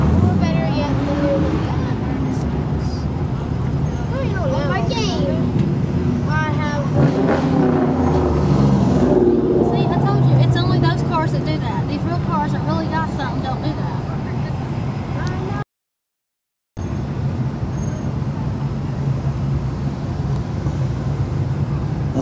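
Engine noise from a Chevrolet Chevelle Super Sport at a fall rod run in Pigeon Forge, Tennessee, rising and falling under constant crowd chatter and nearby voices, with a brief dropout partway through.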